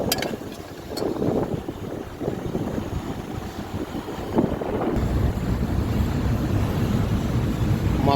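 Wind gusts and rumbles across the microphone outdoors while tomato rice is cooked, a steady broadband roar lasting throughout with no talking.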